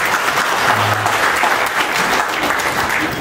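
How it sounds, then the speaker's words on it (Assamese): Steady applause from an audience at a poetry book launch event, dense continuous clapping filling the hall throughout, with no voices standing out. "আপোনালোক আটাইকে অকণমান জোৰেৰে হাত চাপৰি বজাব অনুৰোধ কৰিছোঁ"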